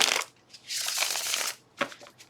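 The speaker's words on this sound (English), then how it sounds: "Okay, so Scorpio, just going to give one shuffle." A tarot card deck being shuffled by hand, with crisp riffling bursts: a short one, then a longer sustained flutter, then a couple of brief snaps at the end.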